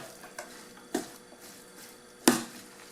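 Spring roll filling is stirred and worked in a bowl until it binds, with a few soft scrapes and two sharper knocks against the bowl amid quiet background.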